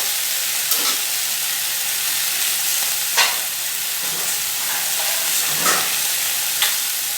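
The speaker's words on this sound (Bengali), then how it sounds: "আর আলু টমেটো সবজিগুলো দিয়ে দিচ্ছি ভালো করে ভেজে নেবো" Okra, potatoes and tomatoes fry in a pan with a soft, steady sizzle, and a handful of brief scraping stirs stand out above it.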